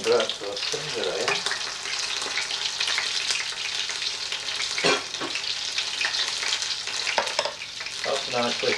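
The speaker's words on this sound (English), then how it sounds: "That's nicely frying." Close, constant crackle and hiss of battered fish frying in oil, with occasional louder pops and stirring noises scattered through the sizzle.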